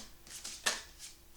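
A short riffle of playing cards being shuffled, a few quick papery bursts with one sharper snap, quiet and close.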